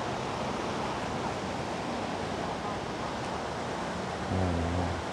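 Large, dirty floodwater from the mountains rushing along in a steady, dense roar close by, with a brief low tonal hum near the end.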